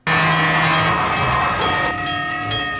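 A train thunders past on a railroad in a 1960 TV episode, a loud, close, continuous rumble and rattle of the cars, with a whistle tone at the start and no voices.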